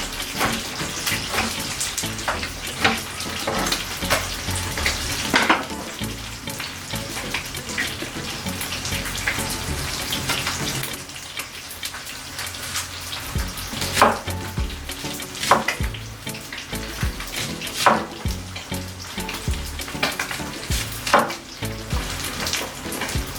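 Fish frying in a pot of oil for Jamaican brown stew fish, a steady broadband sizzle throughout with occasional louder pops and crackles, close and fairly loud, no voices.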